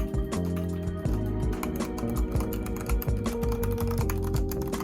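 Someone types on a new computer keyboard during a typing test, a close, dense and uneven clatter of key presses that continues without pause.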